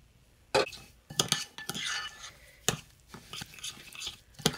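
Semolina being stirred into beaten yogurt in a bowl, a spoon scraping and clinking against the dish in several sharp bursts separated by brief pauses, close and fairly quiet.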